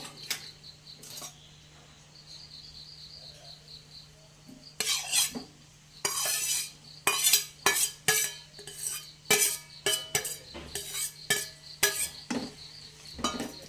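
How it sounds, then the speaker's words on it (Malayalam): Egg roast masala is stirred and mixed in a pan, with a run of close spoon scrapes and clinks against metal over a faint hum, starting quiet and becoming frequent and irregular. "ഇനി നന്നായിട്ട് ഇളക്കി യോജിപ്പിക്കാം."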